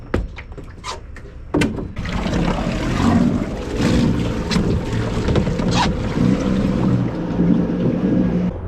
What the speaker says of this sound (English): this little trolling motor, which was a gift from the very kind Mike Lamont